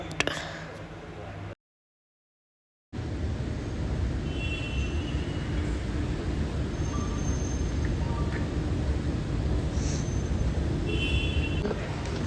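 Steady hum of an indoor metro station, a low even rumble of machinery and distant movement with faint high tones, briefly cutting out.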